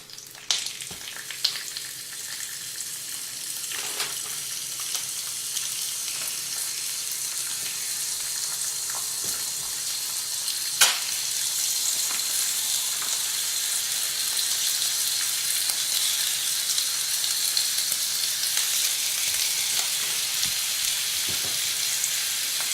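Bacon strips sizzle and fry in a fully heated 5-in-1 frying pan, a steady close crackle that continues throughout with a few sharper pops and no talking.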